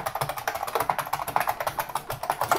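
Rapid, steady typing on a Unicomp Model M SSK Mini M mechanical keyboard, a dense run of sharp clacky keystrokes close to the mic with no talking.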